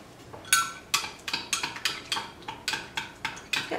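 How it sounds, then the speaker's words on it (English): Utensil scraping and clinking against a bowl while stirring minced garlic into a mixture, a steady rhythm of about a dozen close, crisp strokes with no talking. "I'm just going to stir this all together and sit this to the side"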